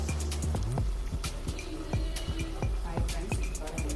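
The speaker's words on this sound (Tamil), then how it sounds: "இப்போ பாருங்கள் நல்லா கொதிக்குது." Vegetable kurma boiling in a pan, with frequent close bubbles popping and plopping in an irregular, busy rhythm over a steady simmering hiss, fairly loud and with no voice over it.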